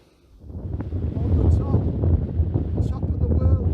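Strong wind on a hilltop roars and buffets an unshielded microphone, building up within the first half second into a loud, steady rush with low rumbling gusts.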